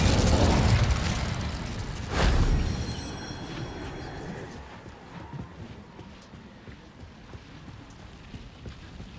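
A fiery Incendio spell cast in Hogwarts Legacy bursts out in a loud whooshing blast. A second sharp flare follows about two seconds later, then both fade into a softer crackling tail.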